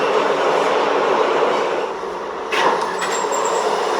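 A New York City Z subway train runs toward Broad Street, a loud, steady rumble and rattle from inside the car that dips briefly midway before swelling again, with a thin high squeal near the end.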